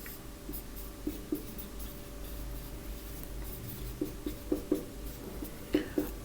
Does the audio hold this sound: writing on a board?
yes